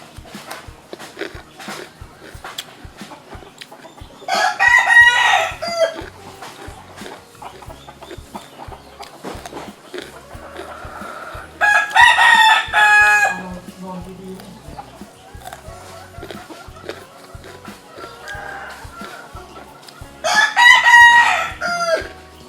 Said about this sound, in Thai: เสียงตัวไก่กึกกักกึกกัก